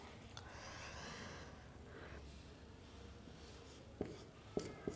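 A pen writes on paper, making quiet, continuous scratchy strokes, close but faint, with a few light taps near the end.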